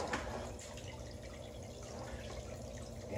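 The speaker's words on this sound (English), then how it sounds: "the water starts coming out the bottom" Water trickles and drips steadily out of the low end of siphon tubing after the seal is released, a faint, close, continuous flow with no talking.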